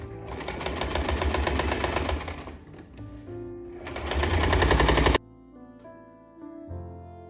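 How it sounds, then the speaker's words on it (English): A sewing machine runs a straight stitch across a dress panel, loud and close, in two long steady bursts with a brief slowdown between, then stops and quieter handling sounds follow. "you're going to straight stitch from one side of the panel to the other side"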